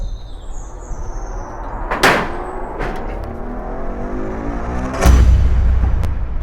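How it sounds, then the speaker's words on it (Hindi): A door or gate is banged on with a few heavy, separate blows, each loud and close, with a deeper thud near the end. "पिट्टी जा रहा दरवाजा।"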